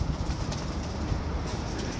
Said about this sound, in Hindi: बड़ा कमाल का कबूतर ही, देसिया कबूतर